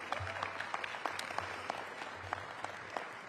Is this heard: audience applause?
yes